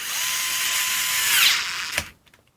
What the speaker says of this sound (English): squeeze this socket and stall out the tool